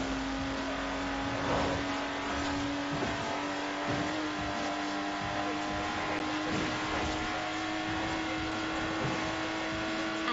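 A Lotus Exige in Forza Horizon 4, a car without power steering, drives at speed, giving a loud, steady engine drone with a sustained tone and small surges, continuous throughout with no talk.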